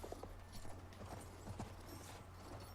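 A Battlefield 1 horse's hooves clop in a steady, quiet rhythm while riding, with a low hum underneath.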